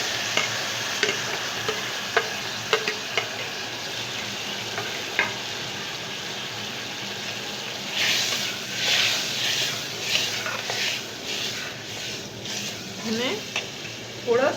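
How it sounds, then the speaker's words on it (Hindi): Three tomatoes sizzling and frying in hot oil while being stirred for an aloo matar curry, a steady hiss with scattered scraping clicks of the spoon that grow busier toward the end. "डालकर अब इसमें मैं टमाटर 3 अदद मैंने लिए थे"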